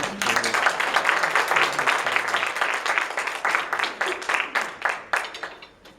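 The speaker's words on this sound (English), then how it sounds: "Give him a round of applause." An audience claps steadily for a songwriter coming onstage at an evening music and poetry event. The dense applause is close and lively, then thins toward the end.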